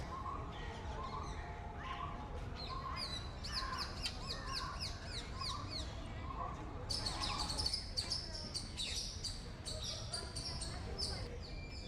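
Crows caw and smaller birds chirp and tweet in Lalbagh botanical garden in Bangalore, a dense, busy chorus of repeated calls at mid distance over steady outdoor background.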